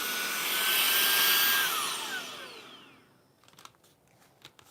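A cordless spot carpet cleaner runs its extraction head, a loud whining suction roar that swells and then winds down with a falling pitch, followed by faint clicks and handling noises.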